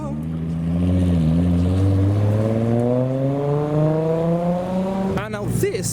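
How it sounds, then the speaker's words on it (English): A modified Nissan Skyline R33 with a downpipe roars past loudly at a car meet, its engine note climbing steadily as it accelerates, ending in a brief crackle. "this is one of the best sounding R33s on the scene. He's got a downpipe"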